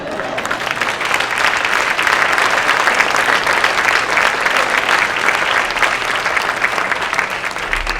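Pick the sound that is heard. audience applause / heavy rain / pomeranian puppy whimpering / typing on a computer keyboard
audience applause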